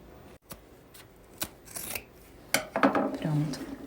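Scissors snipping off excess zipper tape while sewing a fabric toiletry pouch, a few sharp separate cuts followed by rustling and rubbing of material, close and with no talking.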